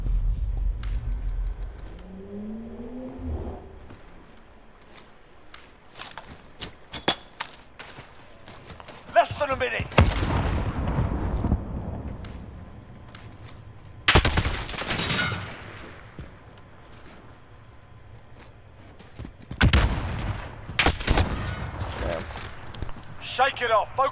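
Gunfire from a 4v4 Search and Destroy match in a shooter game, with an MP5 in use, bursts out in several sharp volleys amid quieter stretches and clicking, while a player talks over the action.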